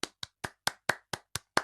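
One person claps eight times at a quick, even pace. The claps are crisp and close, with nothing else heard between them.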